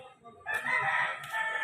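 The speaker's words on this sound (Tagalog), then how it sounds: "Oh, manok yan." A rooster crows once, a clear drawn-out call close by after a brief quiet moment.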